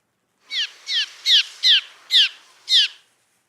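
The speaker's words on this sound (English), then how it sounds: "that's a cliff swallow." Six sharp, descending calls from a cliff swallow, evenly spaced and clear against a quiet background.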